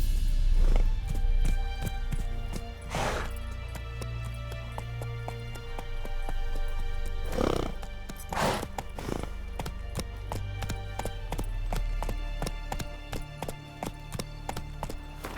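Steady hoofbeats from the horse Roach in The Witcher 3 clatter in a fast, regular clip-clop rhythm throughout, with a few louder thuds and a low rumble underneath.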